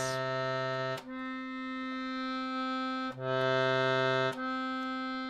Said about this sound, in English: The same note with a middle reed sounds like this.